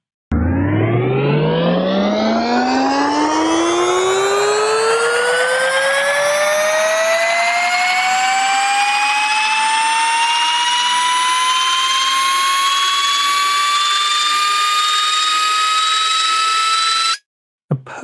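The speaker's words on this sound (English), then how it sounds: "It's just a simple noise with pitch modulation." A synth noise oscillator riser whose pitch sweeps steadily upward under an envelope, starting dark and rising into a bright, whooshing, jet-like tone, loud and sustained for about seventeen seconds before cutting off abruptly.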